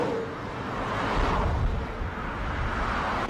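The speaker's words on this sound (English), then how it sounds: "These types include highway traffic." Broadband highway traffic noise rushes steadily, with a vehicle swelling past mid-way in a soft whoosh; the roar stays moderately loud and continuous without any voices.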